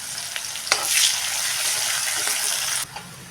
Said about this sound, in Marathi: कांदा चांगला मऊ पडेपर्यंत आपण भाजून घ्यायचा आहे.